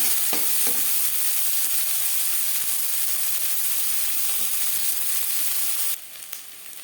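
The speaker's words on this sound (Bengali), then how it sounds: "পেঁয়াজ ভাজা হয়ে এসছে" Chopped onions frying in oil in a wok previously used to fry fish, giving a loud, continuous close sizzle with occasional stirring scrapes, dropping off sharply near the end; no voices.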